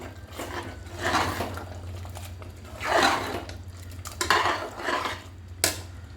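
Cooked sago being stirred into adai payasam in a pan, with a spoon scraping and swishing in uneven strokes, several louder sweeps standing out over a steady low hum.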